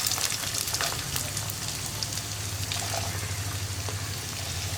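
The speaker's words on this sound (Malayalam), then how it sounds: "ഇതേ എണ്ണയിൽ തന്നെ നമുക്ക് നമ്മുടെ സവോളയും തക്കാളിയും ഒക്കെ ഒന്ന് വഴറ്റിയെടുക്കാം" Onions sautéing in chicken-flavoured oil for kothu chapathi give off a steady, dense crackling sizzle that holds at an even level throughout, with no voices.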